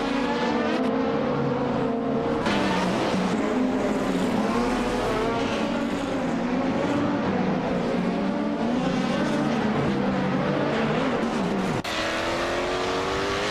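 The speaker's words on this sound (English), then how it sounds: "Ingo McCringleberry is driving a 1998 T VR Speed 12 GTS." Race cars in a racing video game, among them a 1998 TVR Speed 12 GTS, with loud continuous engine roar, shifting revs and brief tire squeal, sustained throughout with no talk.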